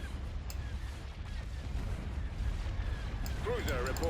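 Missile fire in the space strategy game Star Wars: Empire at War, low rumbling booms and blasts rolling continuously, with a few sharper pops near the end over constant battle noise.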